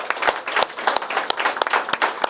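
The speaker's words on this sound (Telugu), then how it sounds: "అందరూ చప్పట్లతో వాళ్ళందరినీ అభినందనలు తెలియజేయాల్సిందిగా కోరుతున్నారు" An audience applauds teachers at a school or academy event, a lively burst of many hands clapping with sharp, uneven claps standing out near and loud.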